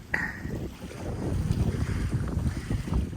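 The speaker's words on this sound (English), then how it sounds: "You can hear the nice calm waves." Gentle lapping of calm water beside mangroves in Englewood, Florida, with a steady wind rumble across the microphone, continuous and low, no voices.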